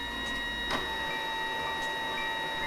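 A Magicard Rio Pro 360 ID card printer runs a cleaning card, giving a steady mechanical hum with faint tonal whine and a couple of small clicks, continuous and moderately loud.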